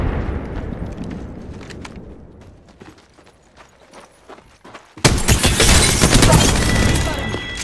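Gunfire and explosive blasts from the Apex Legends video game, a muffled spell of scattered shots that gives way to a sudden loud, dense burst of firing and blasts after several seconds.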